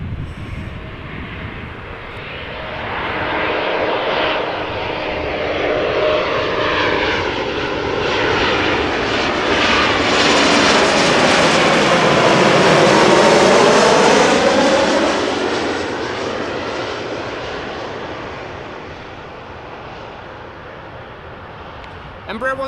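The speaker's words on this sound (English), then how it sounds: "Embraer 190 arriving from Manchester. KLM flight 1072." A KLM Embraer 190 regional jet arriving at Amsterdam Schiphol from Manchester passes close overhead, its engine roar swelling from a distant rumble to a loud peak with a sweeping whine, then fading away.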